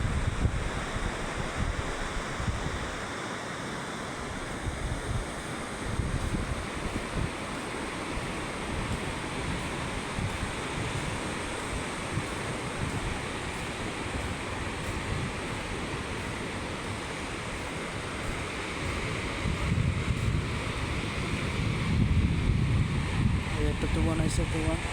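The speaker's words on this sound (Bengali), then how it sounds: "সাগর বর্তমানে ঠান্ডা আছে।" Sea waves wash onto the shore in a steady, broad roar, with gusts of wind buffeting the microphone and a louder surge near the end.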